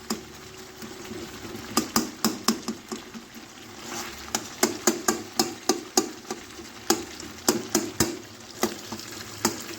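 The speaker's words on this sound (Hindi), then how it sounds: "अब हम इनको इस तरह से करेंगे ताकि ये मैश हो जाए, और साथ साथ हम इनको मिक्स करते जाएंगे" Peeled tomatoes are mashed and stirred in a pan for a Peshawar-style charsi chicken karahi, with rapid, uneven scraping strokes of a utensil against the metal over a soft background sizzle. No one speaks.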